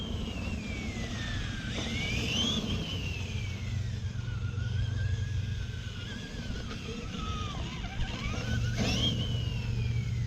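A Cobra Kai SMT10 RC monster truck runs at full throttle, its electric motor whining up and down in rising and falling sweeps over a steady rumble, close and fairly loud, with no talking.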